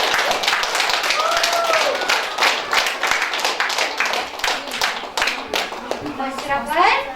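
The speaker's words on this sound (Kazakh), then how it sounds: "Қане балаларыңызға шын жүрекпен бір ду-қол шапалақ соғып қойыңыздаршы." Audience clapping for kindergarten children at a kindergarten event, a steady sustained round of applause with children's voices and chatter mixed in throughout.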